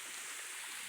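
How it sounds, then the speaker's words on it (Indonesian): Steady rushing water from a waterfall at the Wonorejo dam in Tulungagung, East Java, a broad, even hiss heard quietly on its own without voices. "Wah, ini air terjun nih cah."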